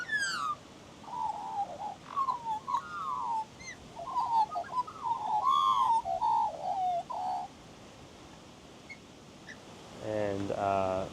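Australian magpies carol and warble at a clifftop campsite on the Nullarbor east of Balladonia, a run of fluting, gurgling calls at moderate distance over steady wind, ending in a short burst of chattering.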